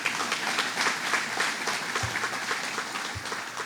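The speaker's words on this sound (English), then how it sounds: "Let's give them a round of applause." Audience applause at a Charter Communications event in Henrietta, honoring an assemblyman and a state senator; steady, moderate clapping from a gathered crowd lasting a few seconds, with a couple of low thumps.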